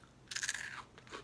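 Dry, oven-toasted bread cubes meant for turkey stuffing crunch between the teeth in a few sharp, close bites, with brittle crackling and no voices.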